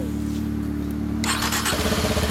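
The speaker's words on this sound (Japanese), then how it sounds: "渋い音、エンジン音と聞かせて" A 2015 Kawasaki Ninja 250 SL engine idles with a steady low hum, then catches and fires up loud and close, settling into a rough, pulsing run.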